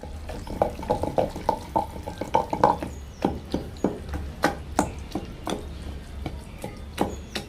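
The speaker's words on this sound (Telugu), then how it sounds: "ఇప్పుడు ఇంకా ఇది దోసకాయను టమాటా వేసి దంచుకుంటుంది" Cucumber and tomato pounded for a chutney, with repeated wet thudding and squishing strikes in a steady rhythm, close and moderately loud.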